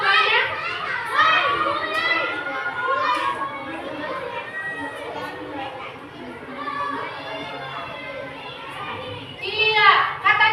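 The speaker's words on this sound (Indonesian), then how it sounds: "Karena lagi ada olahraga di luar ya, jadi agak bising." Noisy schoolyard where children play sports outside, with a steady wash of kids' shouting, chatter and calls at moderate distance, and a louder burst of children's voices near the end.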